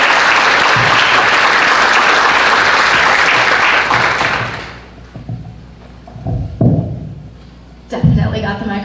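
Applause for students at a school SADD Summit rolls on loud and dense for about four and a half seconds, then cuts off, followed by faint thuds and scattered room noises.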